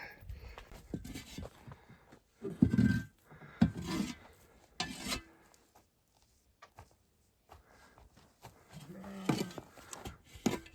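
Several sheep bleat at intervals, some near and some farther off, with quiet stretches and faint shuffling between calls.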